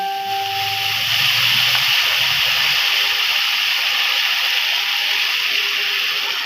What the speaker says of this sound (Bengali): মাছ ভাজার তেলেই দিয়ে দিচ্ছি মশলাটা এটা হচ্ছে পেঁয়াজ টমেটো আদা রসুন একসাথে বেটে নিচ্ছি